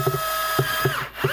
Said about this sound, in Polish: ponieważ wkręt jest dość duży, możemy go dokręcić jeszcze mocniej